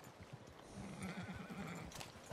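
A horse in the Red Dead Redemption 2 video game clip-clops along and gives a neigh, hooves thudding steadily at moderate distance, fairly quiet, with no talk over it.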